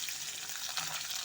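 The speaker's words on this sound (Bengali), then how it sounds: "দিয়ে দিচ্ছি হাফ সেদ্ধ করে রাখা লাউটা।" Half-boiled bottle gourd with slit green chillies hits a nigella seed tempering in hot oil, giving a brief, steady hiss of sizzling, fairly faint and without any voices.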